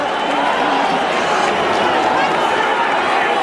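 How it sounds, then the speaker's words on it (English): A boxing arena crowd of about 8,000 keeps up a dense, loud, continuous wash of booing and noise throughout, with no single voice standing out. "Always difficult to know why a crowd is booing."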